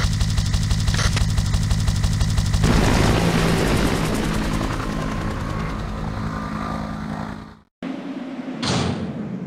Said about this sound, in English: Carlos, Nikolai beat us to the chopper.